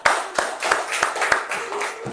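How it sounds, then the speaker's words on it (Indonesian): Students in a classroom clap for a presenting group, a short run of sharp, fairly loud hand claps in an uneven rhythm from a small nearby group. "Oke, tepuk tangan kelompok 2."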